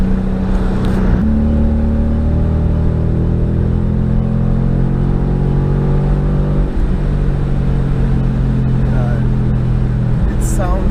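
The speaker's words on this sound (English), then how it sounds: "Sounds so good when you're getting on it at higher speeds." A car fitted with a race exhaust accelerates on a highway, its loud, close engine drone climbing steadily in pitch through the gears with a brief dip between pulls.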